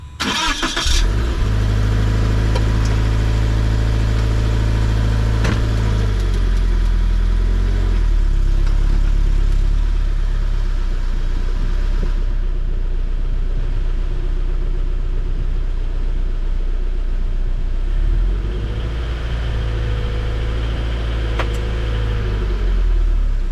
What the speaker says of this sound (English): All right, ran the car a little bit there